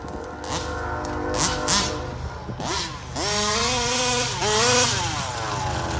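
A Rovan 34cc engine screams at high RPM, its whining pitch sweeping up and down through repeated revs and short throttle blips. The sound is loud and close, with no voices.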